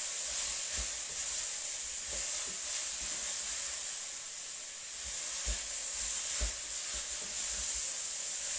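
Ground meat and vegetables for a bolognese fry with a steady, moderate hiss, broken by soft low thumps of stirring at irregular intervals.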